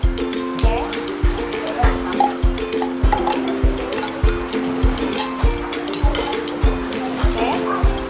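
A dough mixer turns at low speed with margarine added, thumping in a steady rhythm over a constant motor hum, while someone talks over it.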